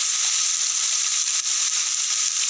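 Ground turmeric, chili and cumin sizzle in hot oil while being fried for kochu chingri, a steady bright hiss of frying that is close and continuous with no talk.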